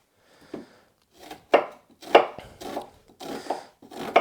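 Onions being chopped with a knife on a board at home, six or so crisp separate cuts at an uneven rhythm, close and clear with no talking.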